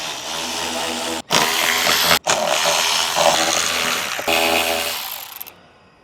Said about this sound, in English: we're going to remove these screws